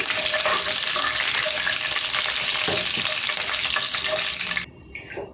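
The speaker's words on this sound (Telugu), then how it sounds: "మినప్పప్పు వేసుకుందామండి మినపప్పు కొద్దిగా వేగాలండి" Urad dal sizzling and crackling steadily in hot oil in a pan while making Krishna district style gongura chutney, a loud continuous fry that cuts off abruptly near the end, leaving quiet kitchen noise.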